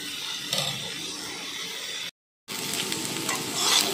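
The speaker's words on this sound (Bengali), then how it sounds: "এগুলো এবার তেলের সঙ্গে ভালো করে নেড়ে নিচ্ছি।" Chunks of potato, papaya and carrot sizzle in hot oil while being stirred for a vegetable lentil dal, a steady close crackle broken by a brief silent gap before the frying resumes.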